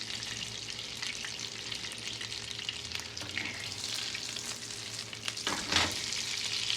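Quiet, steady sizzling and crackling of potatoes frying in a pan, with a brief louder burst of spitting near the end.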